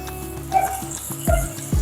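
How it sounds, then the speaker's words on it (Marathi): Water splashed into a hot tempering for stuffed ridge gourd hisses in sharp sizzling bursts, flaring up two or three times over a steady frying crackle. "थोडा पाण्याचा हपका परत मारते नाही तर मग आपली फोडणी जळेल"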